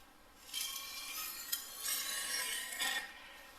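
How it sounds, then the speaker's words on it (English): A knife is drawn across a sharpening stone in a few quiet, rasping strokes, each a short scrape lasting about a second, with no talking. "the knife is always dragged away from the cutting edge. Never push the cutting edge into the stone,"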